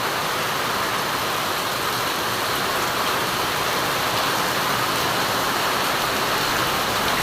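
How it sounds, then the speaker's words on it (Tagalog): Heavy tropical downpour pounding steadily during street flooding, a dense continuous roar of rain with no breaks, loud and close throughout. "ang lakas po ng ulan. Grabe kalakas."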